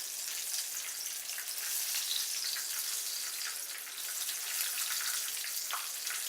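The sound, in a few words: breaded cube steak frying in oil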